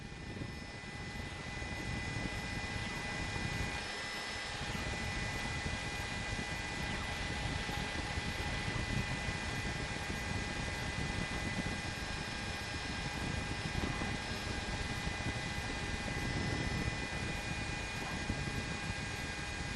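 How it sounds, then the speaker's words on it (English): Police helicopter circling overhead during a pursuit in Los Angeles County, a steady loud rotor and engine drone with a continuous tonal whine that holds without a break. "they're getting the calls from the helicopter above"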